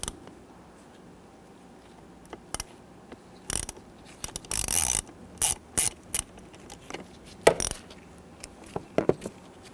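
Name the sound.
1/4 inch ratchet with T20 Torx bit loosening screw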